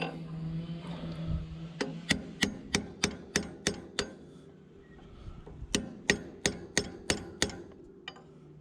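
Sharp metal hammer blows knocking over locking tabs onto bolts on a disc hub of an International 1-6 disc plough, two close runs of about eight evenly spaced taps each, separated by a short pause.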